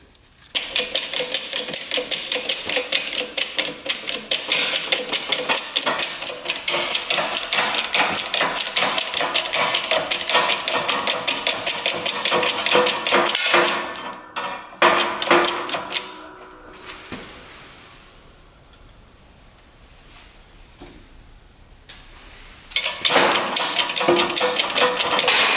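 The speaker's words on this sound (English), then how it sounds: "So we can press out the main crank bearing." A press works on a dirt bike's worn main crank bearing, giving rapid, loud mechanical rattling and hammering that runs continuously, breaks into quieter scraping midway, then resumes at full loudness.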